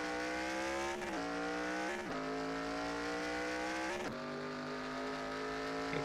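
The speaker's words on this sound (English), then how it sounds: "Quick upshifts for Hector Garcia" Race car in NASCAR Racing 2003 at Chicago Pier, a loud sustained engine whine that climbs in pitch and drops sharply at each of three quick upshifts.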